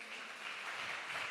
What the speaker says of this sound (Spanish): ¿Cuánto le dan un aplauso al Señor por eso?